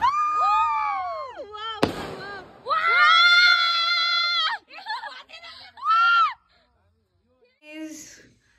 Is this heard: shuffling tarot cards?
no